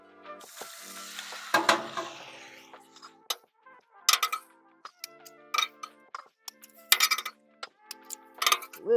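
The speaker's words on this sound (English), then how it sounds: "let's crack some eggs" Eggs cracked onto a hot Blackstone griddle with butter and grapeseed oil: a sizzling splash rises early, followed by sharp taps and clicks of shells and utensils in irregular bursts, no talking.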